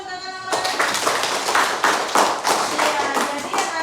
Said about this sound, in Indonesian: Tepuk tangan untuk Kakak Nora.